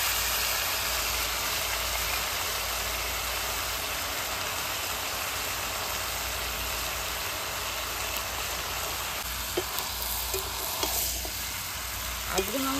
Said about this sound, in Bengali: কাঁচা লঙ্কা দিয়ে মাংস রান্না করছি